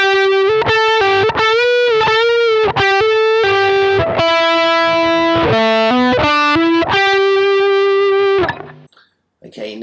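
Distorted electric guitar plays a melodic solo phrase from a song, with sustained notes and string bends, loud and close, ending in a brief trailing decay.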